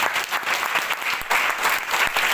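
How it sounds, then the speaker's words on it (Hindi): Loud, steady applause from an audience welcoming newcomers at a gathering, dense clapping with no break and no talk over it. "जोरदार ताली नए बंदों के लिए।"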